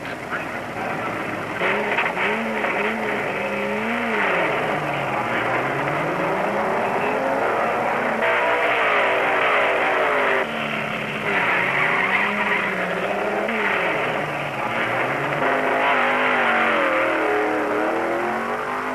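Cars at a 1970 Bristol drag race roar past one after another, their engines rising and falling in a loud continuous revving drone that fills the whole stretch.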